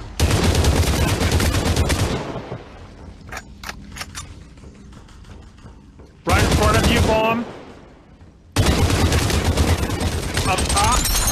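Rapid automatic gunfire in the VR battle royale game Population: One, loud bursts cut off by pauses, with faint mechanical clicks and a voice nearby.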